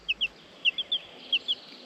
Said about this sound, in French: C'est une poule.